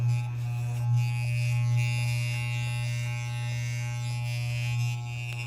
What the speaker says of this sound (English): That's why the clipper is making all the noise. Because number 2 is closed right now.